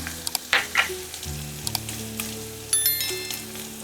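Asafoetida and curry leaves dropped into hot oil for a rice ukad dish, bursting into a loud close sizzle with sharp crackles and pops, then settling into a steady frying hiss, no talk.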